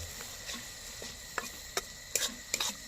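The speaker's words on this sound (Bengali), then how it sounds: "এবার একটু নেড়ে নিই" Ginger and garlic stirred in a frying pan for a village-style cauliflower roast, with soft scraping strokes that sharpen into several crisp spatula clacks toward the end, over a faint background sizzle; no talking.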